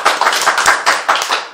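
Hands clap in a short burst of loud, close claps, several distinct smacks in an irregular rhythm that stand alone with no speech over them.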